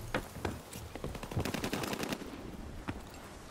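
Bursts of machine gun strafing fire rattle through a World War II video game battle, several loud rapid volleys with sharp individual cracks, heard without voices.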